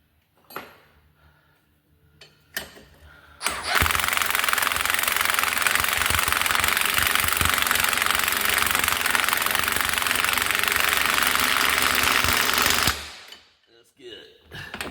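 Air impact gun tightening a bolt on a vehicle, a loud sustained rattling burst of about nine seconds, preceded and followed by quieter clicks and shop noise.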